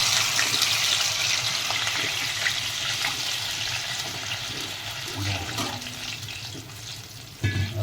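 Water is poured into a hot cooking pot where cumin has just been added for a radish khichu puri breakfast, a steady rushing splash with sizzling that fades slightly over several seconds.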